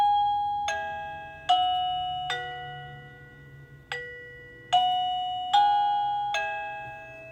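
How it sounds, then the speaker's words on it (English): An INNLIFE waterproof wireless doorbell chime plays a new tune from its 36-tune set: a clear sequence of about eight bright, ringing electronic tones, each decaying before the next, close and alone without talk. "so now I'm going to ring from the doorbell here, and it changed the tune to something else"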